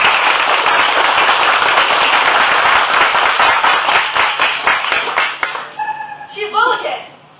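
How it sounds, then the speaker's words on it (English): A crowd of children at a Peter Pan show claps hard to bring Tinkerbell back to life, a dense roar of applause that thins into scattered claps before a voice speaks. "Please clap if you believe in fairies."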